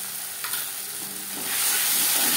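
Ginger paste and green chili paste are stirred into onions and tomatoes in a frying pan, making a close hiss and sizzle that swells louder toward the end of the brief moment.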